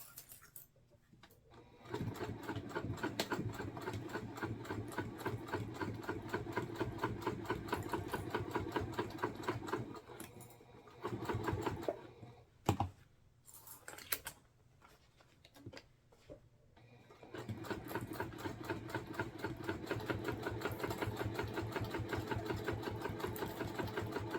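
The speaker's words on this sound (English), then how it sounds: "I'm just going to use a true basting stitch, just a 5mm will be plenty big enough." Sewing machine running a 5mm basting stitch on a bag project, a faint rapid mechanical chatter in long steady bursts, with brief stops and uneven starts midway before resuming, no talking.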